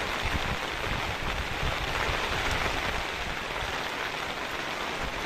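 Steady rain falling near a tent, a dense, even hiss of drops on surfaces, soft and continuous throughout with no voices or other sounds standing out.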